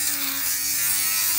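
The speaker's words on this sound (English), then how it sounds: "I bought this shaver that actually takes it off." An electric lint shaver buzzes steadily as it is scrubbed over a sneaker to remove sock lint, a close, continuous high whir with a faint hum that holds constant throughout, with no talking.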